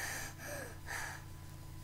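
A child imitates the Hulk's heavy breathing with a few loud, close, raspy gasping breaths in quick succession, without any words.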